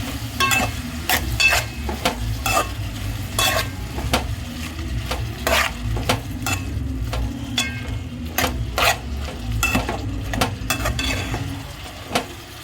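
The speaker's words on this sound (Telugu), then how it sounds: "ఇంకా ఇలా కదుపుకోవాలి." Bitter gourd curry is stirred in a pan on the stove, with a low background sizzle and a steady series of scraping spoon strokes against the pan, fairly close and without talk.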